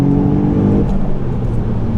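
A Toyota GR Yaris engine revs steadily while warming up, a loud continuous drone with a low harmonic hum that shifts pitch slightly partway through, close to the microphone with no talking.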